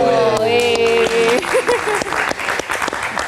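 Brief applause from a small studio audience of about four people, light and scattered, with a sung or sustained voice heard at the start before the clapping takes over.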